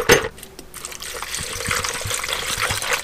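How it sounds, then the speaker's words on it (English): Rust remover liquid poured into a big cup holding hardware stripped off a Suzuki TS185 motorcycle frame, a close, steady trickle and splash after a brief clink at the start. "I'm gonna pour some of this rust remover."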